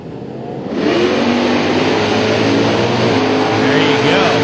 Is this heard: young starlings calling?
no